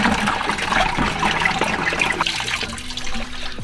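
Water draining out of a Porsche 911SC engine with a blown head gasket, a steady splashing trickle close by, pouring continuously for several seconds before thinning slightly toward the end.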